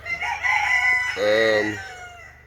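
A Buff Orpington rooster crows loudly and close by in one long, drawn-out call, with faint clucking from his hens around it.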